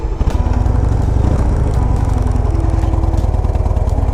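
Harley-Davidson Dyna Super Glide Custom motorcycle engine running steadily up close, a loud continuous low rumble with a throbbing pulse and no speech.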